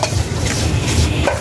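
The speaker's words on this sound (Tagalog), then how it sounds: "hahaluin na" Banana bread batter being stirred in a mixing bowl, a steady scraping and swishing with soft clinks against the bowl, continuous and close for a moment with no talking.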